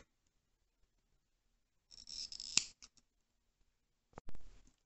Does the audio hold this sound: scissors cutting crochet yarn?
yes